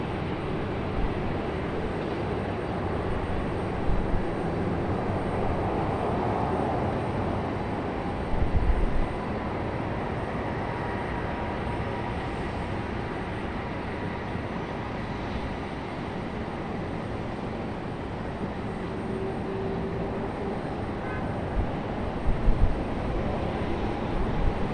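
Boeing 767 airliner landing at Raleigh-Durham airport, a loud continuous broadband roar of engines and rushing air that holds steady and near for the whole stretch.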